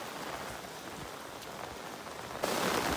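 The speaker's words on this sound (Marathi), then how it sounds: "पाऊस येतोय." Heavy monsoon rain pours steadily on surfaces outdoors during a waterfall trek, a dense continuous hiss that grows louder near the end, with no voices.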